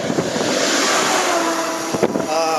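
Steady rushing wind noise buffets the microphone while cycling west into a headwind in Nebraska, loud and continuous, with a brief thump near the end.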